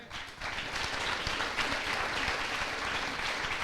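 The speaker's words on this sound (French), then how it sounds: "je crois qu'on peut vraiment les remercier et les applaudir" Audience at an eloquence competition final in Le Mans breaks into applause, a steady wash of many hands clapping at moderate distance that swells quickly and holds evenly.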